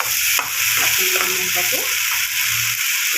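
Masala spices frying in hot oil for a prawn poppy-seed dish, a loud close sizzle with stirring scrapes and clatter over a few seconds.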